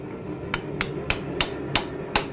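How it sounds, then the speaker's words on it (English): A hammer strikes a chisel on forged steel held in a vise, giving six sharp, ringing metallic hits at a steady, even pace, close and loud with no talking. "What I'm going to do is I'm going to come in here with the chisel"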